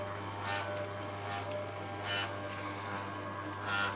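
An electric seed and grain oil press, model 811 running on 220 volts with stainless steel parts, hums steadily at close range, a constant low drone with faint mechanical whirring and no talking.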